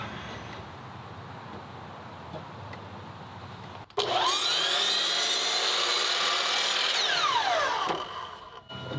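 A saw cuts through wood to trim about a sixteenth of an inch off a horse jump post, a quiet stretch giving way to several seconds of loud, steady, rasping cutting close by, no talk.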